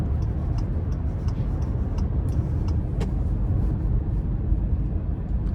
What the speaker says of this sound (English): starting the test drive in this Acura MDX, pretty capable V6 here